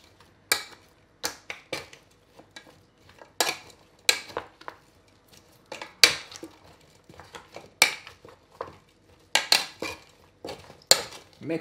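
Ingredients being mixed in a bowl, heard as a series of sharp, close clinks and scrapes of a utensil against the bowl, coming in irregular bursts with short quiet gaps between them.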